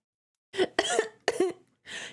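A person coughs from smoke and hot air while a fire burns nearby. Four close, harsh, voiced bursts in quick succession, with a short pause before the last one.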